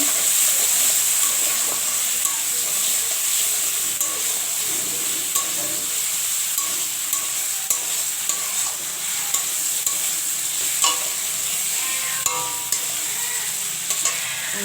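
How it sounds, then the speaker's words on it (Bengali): Garlic paste fries in a pan while being stirred, a steady bright sizzle and hiss with frequent spatula scrapes and taps running throughout, close and without speech. "এর সঙ্গে দিয়ে দিচ্ছি আমি একটু রসুন বাটা। এবার এটাকে ভালো করে ভেজে নেব।"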